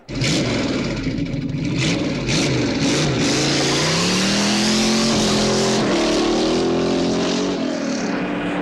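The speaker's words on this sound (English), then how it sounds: "a complete CD dedicated to the driving sounds of many famous cars" Famous cars from a 1996 sound effects library driving and revving: a loud, close engine climbs and falls through several sweeping pitch changes and sustained acceleration, dense throughout with no talk.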